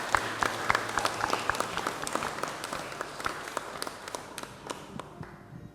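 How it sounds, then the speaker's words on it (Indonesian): Scattered clapping from a small congregation at a church wedding blessing, irregular claps building to moderate, steady applause that thins out toward the end. "Tepuk tangan."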